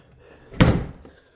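A wooden door of a remote Scottish mountain bothy, part of a two-door entry, swings shut with a single heavy thud, sharp and close, then a faint settling knock before quiet returns.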